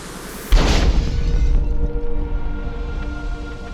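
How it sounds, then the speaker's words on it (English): A loud simulated explosion from a starship warp core breach bursts in suddenly, then rolls into a long, rumbling decay that fades over several seconds. "The light from the explosion on the screen was so bright that Kirk had to close his eyes"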